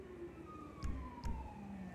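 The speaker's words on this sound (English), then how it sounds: "Not entirely sure why the siren's going off in the game, but okay." A siren sounds inside a video game while a low-deck triaxle trailer is shown, with two short, loud pulses standing out over a steady wailing tone in the background.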